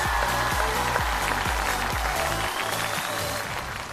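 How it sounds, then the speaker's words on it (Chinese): A comedy-show audience applauds performer Zhai Jianing: dense, sustained clapping fills the room over a steady, thumping music beat that pulses about twice a second. "掌声赞助我们翟佳宁。"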